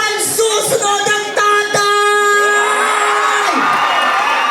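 A crowd at a barangay pageant in San Pedro, Laguna, Philippines shouts and cheers loudly, with sustained whooping and yelling voices rising and falling across several seconds.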